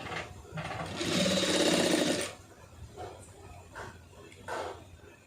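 A sewing machine stitches a neck design for a garment, with a loud sustained run followed by a few shorter, softer bursts.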